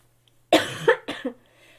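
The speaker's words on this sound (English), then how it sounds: "I'm still coughing, which really sucks" A few harsh coughs in quick succession, close and fairly loud, with a short pause between bursts.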